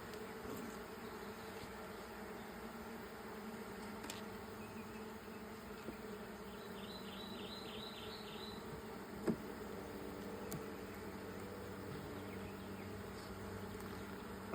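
A soft, continuous buzz of honey bees hangs around an open white hive during a frame inspection for eggs, low and even throughout with a faint chirping trill and one sharp tap midway.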